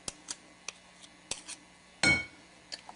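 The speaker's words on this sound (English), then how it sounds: "I like to use a knife because it gets right into the blades of the blender." A metal knife taps and scrapes butter-tart pastry dough off the blades of a pastry blender, giving sharp, light, irregular metallic clinks, one louder scrape near the end, all close up and quiet.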